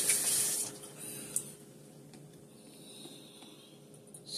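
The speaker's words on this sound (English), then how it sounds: "Let me wash my hands real quick." Tap water runs steadily into a kitchen sink while hands are washed, a soft hissing stream strongest at the start, then fading to a faint trickle with small splashes.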